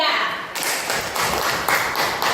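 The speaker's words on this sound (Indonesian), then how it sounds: "Tepuk tangan dulu untuk kelompok 3." Elementary-school classmates clap for a presenting group in a third-grade classroom, a dense burst of hand claps sustained for a couple of seconds, fairly close and steady with slight swells.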